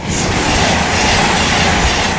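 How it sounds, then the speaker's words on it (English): A modern train rushes past on railway tracks, a loud continuous roar with wheel rumble and faint rail squeal, close by for the whole stretch. "Modern trains are extremely fast and so quiet they give you no time to react"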